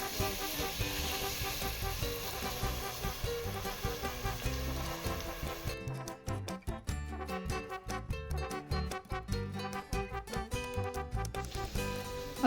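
Chopped onions dropped into hot oil in a pan for Goan pork sorpatel, giving a steady loud sizzle that turns into crackling, popping bursts as frying goes on.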